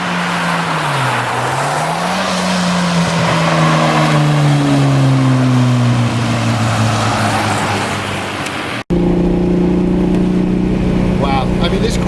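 Porsche 914 driving in pouring rain, a steady engine drone rising and falling through the gears with rain and road hiss, someone talking over it, then a brief cut to a calmer idle hum.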